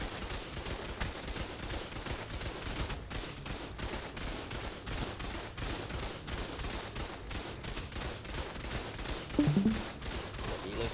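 Rapid automatic gunfire in the survival game ARK during a PvP raid, a long steady stream of sharp repeated shots, moderately loud and continuous throughout.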